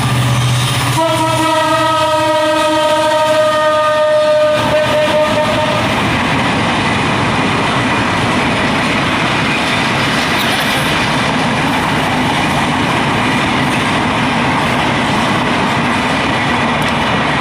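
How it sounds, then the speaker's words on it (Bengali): A loud train passes close by, its horn sounding for several seconds before the steady rush and rumble of the cars continues to the end. "এই ঢাকার ট্রেন যাচ্ছে"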